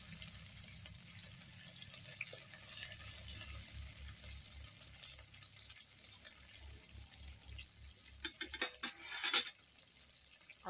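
Mustard seeds, curry leaves and chillies frying in oil over a wood-fired clay stove for papaya sabzi, a steady low hiss with a few sharper crackles and pops near the end, no voices.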